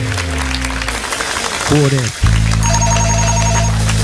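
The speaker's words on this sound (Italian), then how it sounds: "Telefonata." Telephone ringing live on air during an Italian TV music show, a repeated electronic ring tone sounding loud and close over a sustained instrumental backing, with a brief pause and then continued ringing tones.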